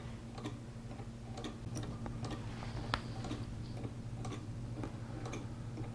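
A 3D-printed Coup Perdu clock escapement prototype ticks quietly and steadily, its light, sharp clicks falling in a rapid, slightly uneven rhythm against a faint background hum.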